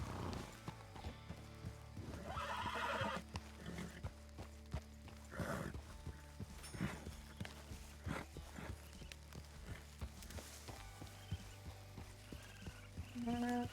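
Horse hooves clip-clop over a busy game soundscape, with a whinny rising midway and scattered effects throughout.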